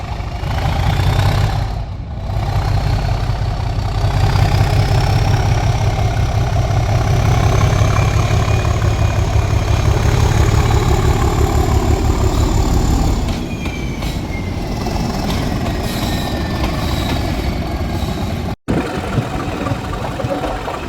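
A Class 37 diesel locomotive idles at a Severn Valley Railway gala, a loud, close, heavy low throb with a steady pulsing beat, a whining overtone drifting above, and a sharp brief knock near the end.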